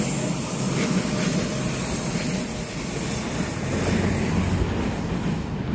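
An EMU3000 intercity express train, a twelve-car set, runs steadily on the North-Link line from Hualien toward Qidu with continuous low rumble and wheel noise, close and fairly loud throughout, no talk.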